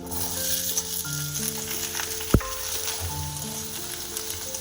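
Cut potatoes sizzle and fry in hot oil with garlic, a steady broadband hiss with one sharp clatter midway, no voices.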